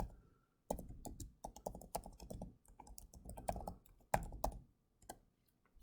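An email address is typed on a computer keyboard in quick close bursts of key clicks, pausing briefly between runs, with no voices.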